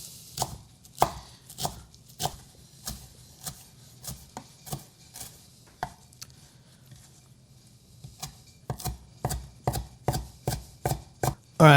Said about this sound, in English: now we got us a big handful of parsley here. And we're gonna head and start chopping that up.